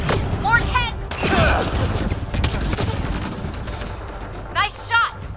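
Rapid bursts of gunfire from the sci-fi shooter Mass Effect Andromeda during hardcore-difficulty freeroam on the planet Eos, loud and layered with game effects and voices talking over the action.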